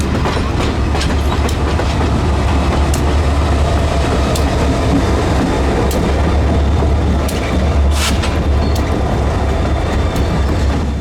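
The N&W 611 steam locomotive, a 5,100-horsepower engine, pulls its passenger train with a loud, steady rumble and rhythmic clickety-clack of wheels on rails, continuous and close throughout.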